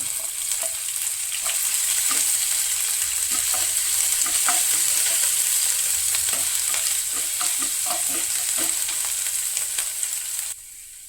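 A tempering of urad dal, chopped ginger, green chili and asafoetida frying in hot oil while being stirred, with a steady bright sizzle, rapid scraping stir strokes throughout and a sudden quieting near the end, no talking.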